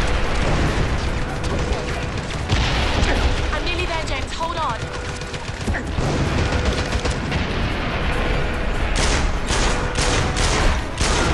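Explosions and gunfire in the action video game 007 Blood Stone, a loud, continuous barrage of booms and shots that fills the scene, with a voice faintly present underneath.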